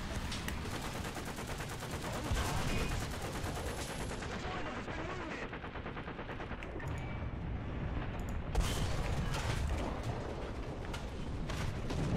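Anti-aircraft gunfire rattles in War Thunder tank combat, a dense continuous barrage of rapid shots and booms that fills the scene for the whole stretch, loud and close, with a few heavier bursts standing out.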